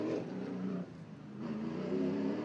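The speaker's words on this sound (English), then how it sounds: "That is Chevron Clay, the driver of the 15C, going out for his first lap" A CARS Tour Pro Late Model race car heads out on a qualifying lap at Hickory Motor Speedway. Its engine roars steadily, eases briefly, then builds again in a loud, continuous drone.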